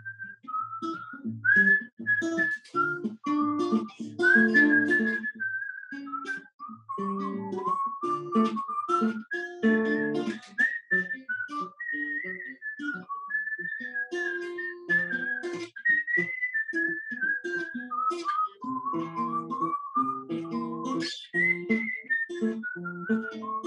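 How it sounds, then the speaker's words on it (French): A man whistles a lively melodic tune for over twenty seconds, with clear bright notes in quick phrases, close and alone, while a soft guitar-like accompaniment sits underneath at moments. "Est-ce que tu peux nous siffler un truc?"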